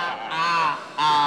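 A bird near a cage lets out two honking, goose-like squawks, the second following a brief pause, both loud and close with nothing else around them.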